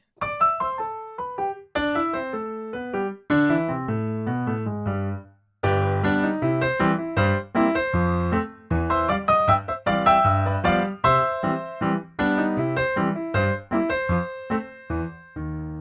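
Solo piano plays Scott Joplin's ragtime tune The Entertainer with a steady left-hand bass and quick right-hand melody, loud and close, with a short pause near the start.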